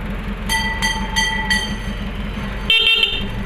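Several short horn honks from an owner-type jeep in quick series, then a longer blaring honk, over a low idling engine.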